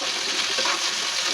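Onion, spices and bay leaves frying in a pan for an omelette curry, a steady close sizzle and hiss running without a break and without talk.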